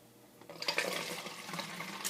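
Homemade liquid, a cream or buttermilk preparation, being poured into a container, starting quiet and then swelling into a close, splashy gurgling stream that runs on to the end.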